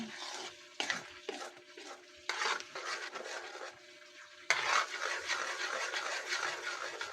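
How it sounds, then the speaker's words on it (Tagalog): Sauce in a pot boils hard, giving a close, uneven bubbling hiss that comes in rough bursts and grows fuller toward the end. "kumukulong-kulo na po siya"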